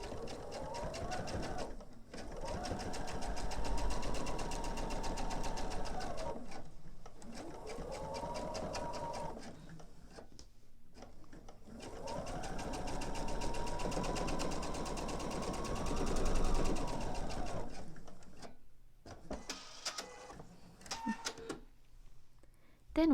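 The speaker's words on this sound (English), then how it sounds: "just sew the remainder of my binding loop" A sewing machine stitching binding onto a mini quilt, running in two long steady whirring bursts with short gaps, then a few brief stop-start stitches near the end.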